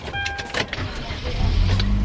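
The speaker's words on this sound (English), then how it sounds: "and start that engine." A van's engine turns over on a trip around Montego Bay, Jamaica. A brief high whine is followed by a low, steady rumble that grows louder toward the end, heard up close with no talk.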